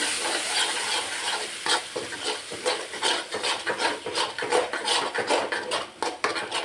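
Ground gooseberry pickle paste frying in oil with mustard seeds and asafoetida, a close steady sizzle with scraping and stirring of a spoon against the pan.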